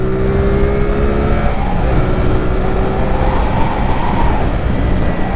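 A CFMOTO 450 SRS motorcycle accelerates hard in third gear on a wet road, its engine note climbing loudly and steadily under heavy wind rush with no talk.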